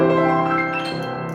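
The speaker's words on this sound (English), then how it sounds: "So the echoed arpeggio would sound something like this." Echoed arpeggio played on a keyboard-like instrument, a few overlapping ringing notes stepping upward and decaying into one another, clear and close.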